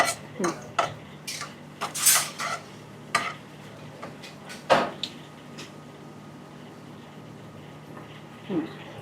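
Cashews roasting in a pan for a rajgira kheer, stirred with a metal spoon that clinks and scrapes against the pan in irregular bursts, with faint sizzling underneath and occasional voices.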